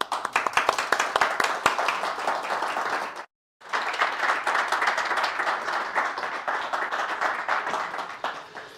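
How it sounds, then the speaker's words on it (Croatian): Audience clapping at a lecture on new reproduction methods, a sparse start swelling into dense steady applause, broken by a brief cut-out before resuming. "vas sve ostale bih pozvao na jedan kratki aplauz"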